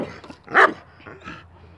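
A dog gives one sharp, loud bark after a few soft yips and whimpers nearby, all outdoors near a fence with no talking.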